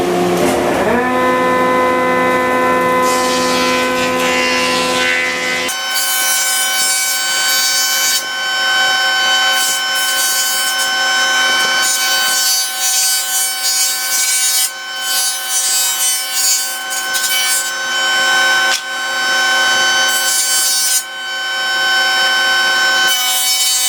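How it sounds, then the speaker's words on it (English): A thickness planer feeds wooden pieces for pattern work, opening with a rising motor whine, then a loud, near, continuous cutting roar whose pitch and level dip briefly several times as boards pass through. "Now we're going to run these through the thickness planer."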